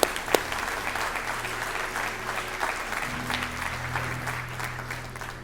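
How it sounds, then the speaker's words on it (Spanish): A church congregation claps together in steady, sustained applause that fills the room evenly, moderately loud, with a faint low hum running underneath. "Ahora, vamos a aplaudir todos juntos."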